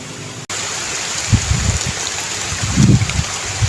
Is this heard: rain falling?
yes